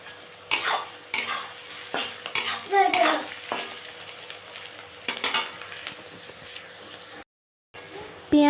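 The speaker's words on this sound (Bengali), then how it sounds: "এখন আমি মিডিয়াম আঁচ দিয়ে পেঁয়াজগুলো ভালো করে বেরেস্তা করে নেব।" Onions frying over medium heat for biryani, stirred with a spatula that scrapes and clatters against the pot in bursts over a soft, continuous sizzle, close by, with a brief dropout near the end.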